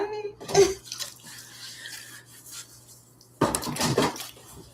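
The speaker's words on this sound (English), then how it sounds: "the old fashioned way, filling up the basin" Tap water running into a kitchen sink basin being filled for washing dishes, a steady splashing stream with a few dish clinks, ending in a louder gush.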